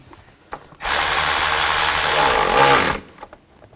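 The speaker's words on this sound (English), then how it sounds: "just tighten the worm clamp down" A power driver tightens a worm-drive hose clamp over the throttle body intake on a 2000-2006 Chevy Tahoe, giving one loud, steady high-pitched whir of about two seconds, with faint clicks just before and after.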